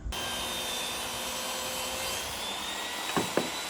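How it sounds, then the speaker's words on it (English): Wood boards ripped lengthwise on a table saw for a concrete fire table countertop: a steady, loud whirring blade drone runs throughout, with a couple of brief sharper bumps near the end as the cut finishes. "So I'm going to go ahead and rip all these down with the table saw."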